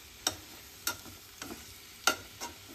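Food frying in a pan for a quick home recipe, with faint background sizzle and a few separate sharp clicks and crackles spaced irregularly, no talk.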